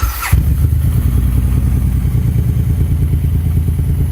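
A Suzuki Boulevard M109R motorcycle idles at roughly 1100 rpm during cylinder synchronization, a loud, close, steady throbbing rumble that kicks in after a short thump and holds evenly with no speech.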